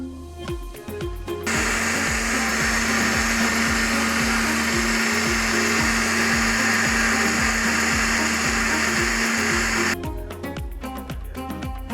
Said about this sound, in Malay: kita masuk je dalam blender dan kita blenderkan